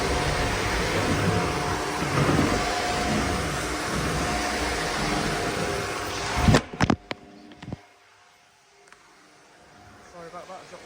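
A Shark vacuum cleaner runs steadily on hard floors in a holiday lodge, a loud continuous motor whine that cuts off abruptly after about six seconds, followed by a few sharp knocks and near silence.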